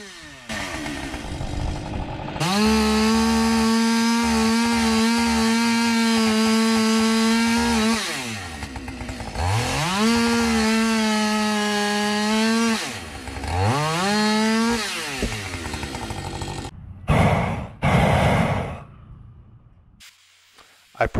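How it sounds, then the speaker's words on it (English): A Husqvarna 550 XP chainsaw with a freshly sharpened chain cuts wood outdoors, loud and close, in three long revving bursts with the engine pitch dipping under load between them, then short idling blips at the end. "I sharpened the chain on my Husqvarna 550 XP chainsaw"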